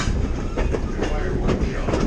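Big Trees train rolling over a curved trestle near Henry Cowell State Park, a loud close rumble with rhythmic clacks of wheels on rail joints roughly every quarter second.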